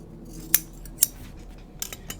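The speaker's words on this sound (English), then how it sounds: "So I just trimmed off the excess." Scissors trimming excess fabric from sewn men's Jutland pants, a few crisp close snips spaced about half a second apart, then a quicker cluster of small cuts, with no talking.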